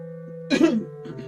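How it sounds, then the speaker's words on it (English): A short, close cough and throat-clearing burst from a person, one harsh rasping hack in the middle followed by a softer trailing clear, over a steady low hum. "You're gonna hear a lot of coughing and hacking today."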